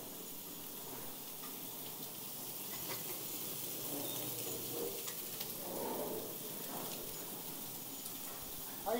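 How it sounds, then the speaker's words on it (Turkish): Butter melts in a hot pan while a Turkish kelle paça dish is prepared, giving a soft, continuous sizzle and hiss with faint stirring scrapes and a little background murmur. "Tereyağımızı ekledik. Hafiften erimesini bekliyoruz"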